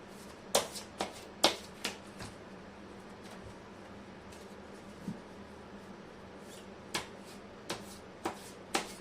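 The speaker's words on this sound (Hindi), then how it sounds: "मैं कर लेती हूँ कार्ड की शफलिंग" Tarot cards are shuffled by hand in a quiet room, soft riffles and sharp snapping flicks recurring irregularly, close and fairly faint.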